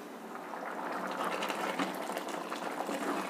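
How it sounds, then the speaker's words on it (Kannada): Rice and moong dal for khichdi boil in a heavy-bottomed pot over a full high flame, a steady close bubbling and crackling simmer that runs evenly throughout with no voices. "ಈಗ ಇದು ಅಕ್ಕಿ, ಹೆಸರು ಬೇಳೆ ಎರಡು ಬೇಯೋದಕ್ಕೆ ಬಿಡ್ತಾ ಇದ್ದೀನಿ"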